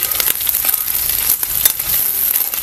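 Masala and eggs for egg curry are sautéed in a pan, giving a continuous sizzle with scraping and stirring clatter from a utensil, close and fairly loud, with no talking.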